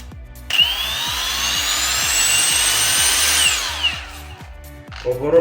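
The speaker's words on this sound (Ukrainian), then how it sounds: "Нова болгарка" A ProCraft brushless angle grinder spins up with a high whine that holds steady for a few seconds, then winds down, over a repetitive low rhythmic thumping background.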